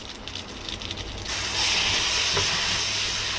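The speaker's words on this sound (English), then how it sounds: "Now the shrimp is getting fried twice and soaking up all the juices from the tomato and the spice." Shrimp frying in a pan with tomato and spices for a noodle dish, a soft background hiss that swells into a loud, steady, close sizzle partway through and holds to the end.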